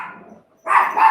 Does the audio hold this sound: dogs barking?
yes